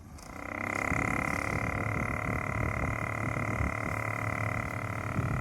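A homemade battery-powered DC mini cooler runs close by, starting up and then holding a steady motor hum with a faint whine and rattling fan noise, with no talking.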